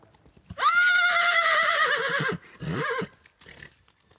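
A Friesian horse gives a long, loud whinny close by, a shaky drawn-out call followed by a shorter second neigh, with soft thuds and stable noise around it.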